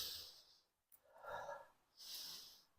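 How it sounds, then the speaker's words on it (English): Two breathy sniffs at a glass of Katoomba Brewing Co Red IPA beer, close and fairly loud, with a softer breathy sound between them. No one speaks. "So we'll go in for a sniff."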